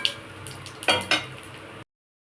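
White cumin seeds dropped into hot oil while tempering for a taro curry with rohu (katla) fish belly pieces, giving a brief sizzling crackle with two sharp bursts of spitting and a light clink of a pan, ending abruptly.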